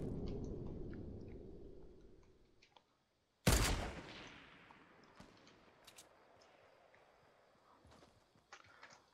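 A single sharp gunshot in Fortnite cracks loudly out of a brief silence, then trails into a quieter scatter of faint clicks and distant pops.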